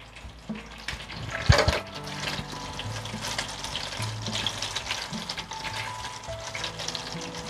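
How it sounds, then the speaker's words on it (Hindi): Dried red chillies, two of them, crackle and sizzle in hot oil for an Andhra-style pumpkin salan, a steady close frying hiss with one sharp pop early on and faint clinks in the pan. "सूखी लाल मिर्च, दो सूखी लाल मिर्च, इसको फ्राई करेंगे।"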